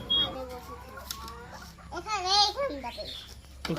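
Hens in a backyard flock of about fourteen layers cluck and squawk in short rising calls, fairly close, with a person talking intermittently alongside.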